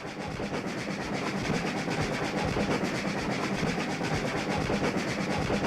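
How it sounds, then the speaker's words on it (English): A steam train on the Isle of Man Steam Railway rolls steadily along the rails from Colby to Ballabeg with a continuous rumble and rhythmic clatter, loud and close throughout, no voices. "And so the train proceeded from Colby to Ballabeg."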